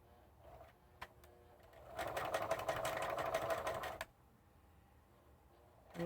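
A sewing machine stitching a reinforcing seam on fabric with stitch width set to 3: a couple of single clicks, then a loud steady run of about two seconds that stops abruptly, followed by quiet.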